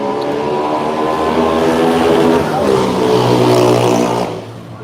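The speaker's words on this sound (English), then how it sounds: "That motorcycle was so loud" A loud motorcycle engine roars close by with a rough, droning growl, holds steady, then drops away as it moves off.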